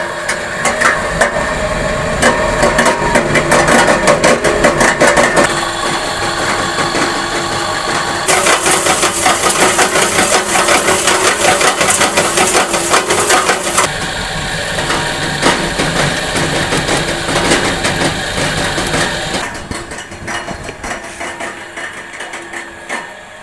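A homemade screw conveyor starts up and runs with a loud, steady mechanical drone and rattling clatter, its intensity shifting as it spins up and runs under load, with no talking.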